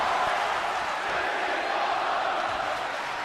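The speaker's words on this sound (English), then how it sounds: "And this crowd going bananas." A wrestling crowd cheers wildly at a live independent show, a dense, continuous roar of many voices that stays loud and unbroken.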